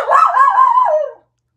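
A miniature schnauzer lets out one long, loud, wavering scream-like howl at close range, lasting about a second before cutting off to silence.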